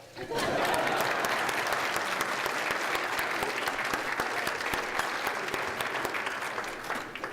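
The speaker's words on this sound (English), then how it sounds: "give a nice round of applause to all those who were not" An audience at a forum gives a round of applause, with the clapping swelling in quickly and then holding steady and dense. The sound is moderately loud and carries on alone before tapering toward the close.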